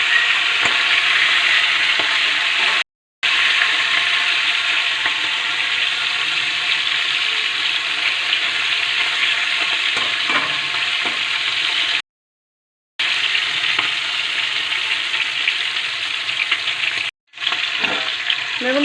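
Fish heads frying in hot oil in a wok, cooked for a pumpkin and potato fish-head chorchori: a loud, steady, crackling sizzle that runs on, broken by a few brief silent cuts, with no voices.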